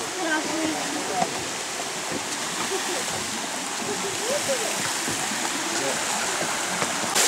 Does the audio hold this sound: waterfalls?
yes